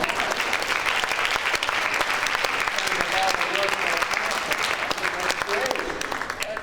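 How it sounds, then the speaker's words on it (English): A conference audience gives a round of applause after news that a colleague is in labor, a loud, continuous wash of clapping from many hands throughout, with a voice briefly audible beneath it. "let's give them a round of applause"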